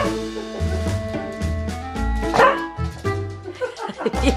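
A dog gives a series of short, close barks and yips in an uneven rhythm, with excited whimpering between them.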